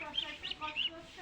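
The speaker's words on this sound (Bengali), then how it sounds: "এই যে ছোট্ট ছোট্ট চীনে হাঁসের বাচ্চা" Small Chinese ducklings give soft, high peeping calls in a few quick bursts, close by and faint, with a little background noise.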